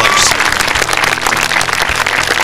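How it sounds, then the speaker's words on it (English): Audience applause at a press conference following a presentation of colors, a loud, dense burst of clapping and crowd noise filling the short moment without pause. "Special round of applause, please, for Brittany Gadsden and the presentation of colors"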